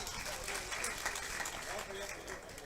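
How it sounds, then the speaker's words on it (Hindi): A seated audience at a Hindi comic poetry recital claps steadily, a dense even patter of many hands sustained throughout, with a voice faintly audible beneath it. "आपस में एक बार तालियां बजा दीजिए।"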